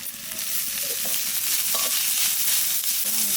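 Chopped green chili frying in hot oil with ginger and asafoetida, a steady close sizzle broken by scraping, clinking stirs of a spatula against the pan, no talking.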